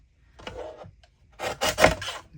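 A paper trimmer slices through card stock in two short, soft scraping passes, quiet and close, with no voices.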